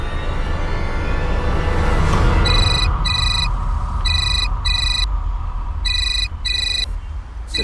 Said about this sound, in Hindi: सतीश का फोन।